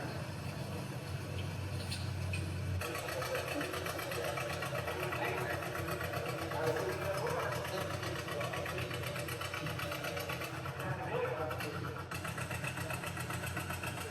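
An antique tractor engine runs steadily as it drives on at a dead weight tractor pull, a continuous mid-pitched engine drone with a shift in tone early on.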